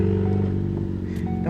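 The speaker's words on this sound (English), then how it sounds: "It's just a cut off exhaust that kind of dumps right under my trunk" A Ford Focus ST engine with a cut-off exhaust dumping under the trunk and a Boomba blow-off valve, a loud, close, rough idle or low rev with a harsh exhaust note over about a second and a half.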